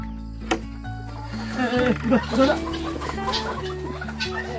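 Chickens cluck near a village market, with a few loud cackling calls over a steady engine-like hum and background noise.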